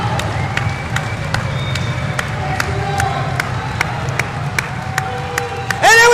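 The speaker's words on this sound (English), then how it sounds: "Yes, the crowd's starting to get up there." A wrestling crowd at the 2014 Who's Number One overtime bout between Daton Fix and Nick Suriano, a steady arena murmur building with scattered claps and sharp taps, ending in a sudden louder burst.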